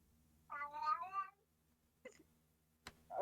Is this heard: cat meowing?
yes